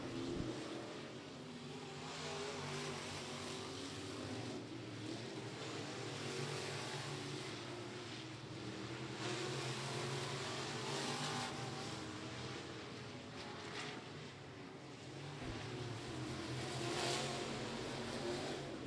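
Sport mod race cars running hot lap time trials at Florence Speedway, engines droning and rising and falling continuously as they circle the track at a distance, with no talk.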